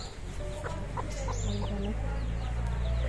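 Chickens cluck and chatter on a village farm in rural Assam, with several birds calling nearby over a constant low outdoor background rumble.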